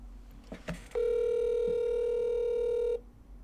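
A telephone ringback tone on a call, one steady two-second tone heard close, preceded by brief handling clicks.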